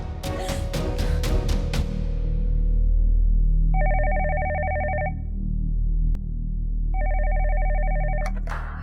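A phone ringtone sounds in two loud, electronic warbling bursts, each about a second and a half long and separated by a pause, following a few quick chime notes over a low background hum.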